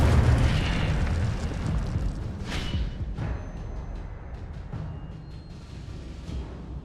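An Incendio fire spell cast in Hogwarts Legacy releases a loud whooshing burst with rumbling flame and several sharper pops. The sound fades gradually over a few seconds, with no speech.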